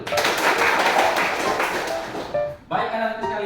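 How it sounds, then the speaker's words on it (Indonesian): A group of children claps hands together in a classroom lesson, a dense sustained patter of applause that cuts off abruptly near the end before voices resume. "Tepuk tangan dulu."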